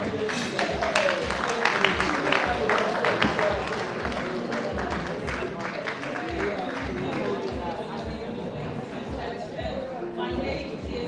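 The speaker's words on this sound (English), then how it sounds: "Please, a round of applause for Yetunde." A book-launch audience applauds the co-MC with dense, continuous clapping that holds fairly loud and even for several seconds, with some crowd voices mixed in.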